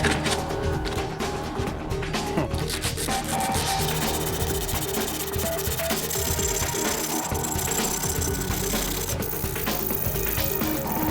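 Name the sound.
sanding a stainless steel keyring knife with sandpaper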